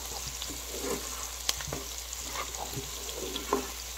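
Onions fry in a pot with a steady close sizzle, and a utensil clinks and scrapes now and then as they are stirred.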